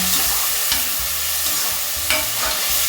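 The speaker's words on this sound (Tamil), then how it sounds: "இதுவும் நல்லா குழைய வதக்கணுங்க" Steady sizzling of chopped tomatoes sautéing in a pan for chicken gravy, with a spatula scraping and stirring every so often.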